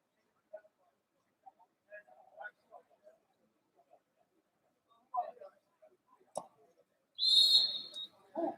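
Sharp referee whistle at a high school water polo game, one short blast rising clearly above the quiet pool ambience near the end, with a commentator talking softly before it.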